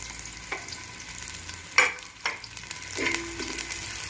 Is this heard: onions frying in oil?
yes